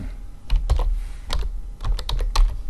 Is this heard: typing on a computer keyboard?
yes